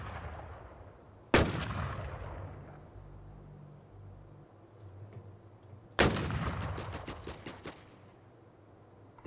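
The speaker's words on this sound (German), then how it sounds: "Der schießt auf den anderen." Two bursts of gunfire in the Last Man Standing video game, a single loud shot followed much later by a rapid volley of shots, fairly near, with quieter game ambience between them.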